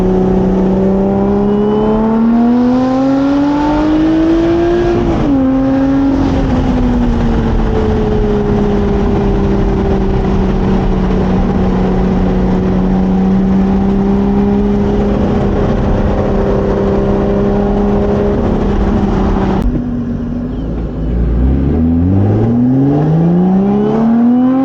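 A Lotus Evora GT sports car drives with a loud, close engine drone that swells into revs, eases off and then climbs again near the end, with no talk over it.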